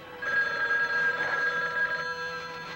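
A telephone rings with a steady electric bell trill, one sustained burst at moderate loudness in a tense film trailer, with nothing else heard.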